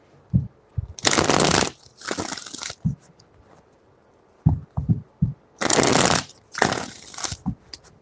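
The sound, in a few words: shuffling tarot cards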